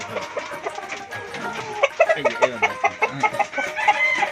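Pakistani tiger roosters and hens cluck and crow in a crowded pen that is loud and close, with rapid overlapping clucks and bursts of calls that grow denser and more rhythmic in the second half.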